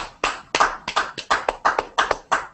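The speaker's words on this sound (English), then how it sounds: "Give her a round of applause, guys." Hand claps at an online team hangout ring out close and sharp in a steady, even rhythm of about a dozen strokes, as if from just one or two people rather than a crowd.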